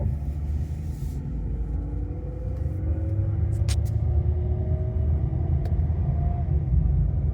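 A Chevrolet Caprice PPV engine rumbles steadily up close, its tone climbing in gentle revving sweeps as gears are shifted with paddle shifters. No one speaks.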